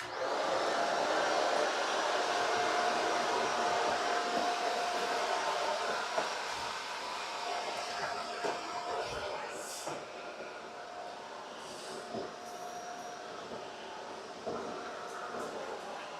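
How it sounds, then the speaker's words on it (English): A vacuum cleaner whines steadily in a home kitchen, loud at first then dropping to a lower, farther hum, with occasional clicks and faint voices in the background. "The vacuum is so scary."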